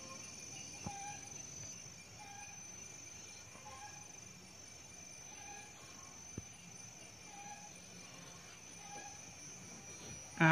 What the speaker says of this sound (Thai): เสียงจิ้งหรีดร้องระงมเรไรเลยกลางคืนนะครับ